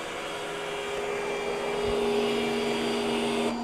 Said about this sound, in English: iRobot Roomba J7.